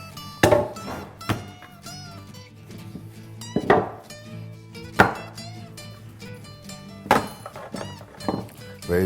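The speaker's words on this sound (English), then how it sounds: "We're going to put them in the pans." Bread dough loaves set down into baking pans, giving a few soft, dull thunks and light metallic knocks spaced out over several seconds, close by and moderately loud with no talking.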